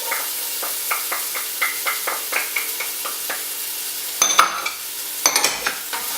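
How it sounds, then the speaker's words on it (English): Ginger and garlic are stir-fried in a pan for an almond chicken curry. Steady, rhythmic spatula scrapes repeat about a dozen times over a faint sizzle, then two louder, hissing bursts of frying follow near the end. "We're going to brown these off again, keep stirring all the time for about 4 minutes"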